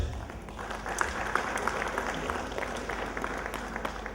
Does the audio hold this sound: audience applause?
yes